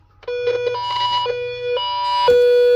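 An Emerson weather radio gives out a sharp, steady electronic alert tone that switches between pitches in short bursts, loud and close, over a low background hum.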